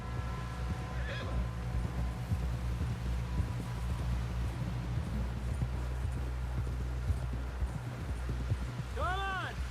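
A horse ridden in the Red Dead Redemption 2 video game, with steady clip-clop hoofbeats throughout under a low rumble and a whinny near the end, moderately loud and close.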